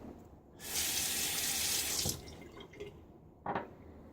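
A tap runs into a sink to rinse a razor partway through a wet shave, a loud close rush of water that lasts about a second and a half, then stops, followed by a few soft splashes and drips.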